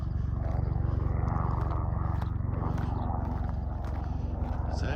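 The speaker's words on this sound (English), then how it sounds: "Got a helicopter coming in there for something." A helicopter flies in near an RV park campground walking trail in New Mexico, its steady low rotor thrum droning continuously at moderate distance without any talk.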